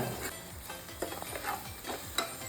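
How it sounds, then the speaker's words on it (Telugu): Curry leaves fry in a pan for a spine gourd and chana dal curry while a spoon stirs them, making soft scraping strokes over a low, steady sizzle with no talking. "దూరగా వేగేంత వరకు మనం కలుపుతూనే ఉండాలన్నమాట"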